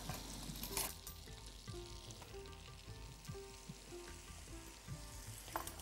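Two tablespoons of flour frying in melted butter for a prawn dish, a soft, faint, continuous sizzle with an occasional light scrape of stirring, heard up close.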